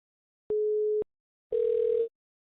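Two short telephone line tones ring out on a call to an SSA scammer, each about half a second long with a brief gap between them, and nobody speaks.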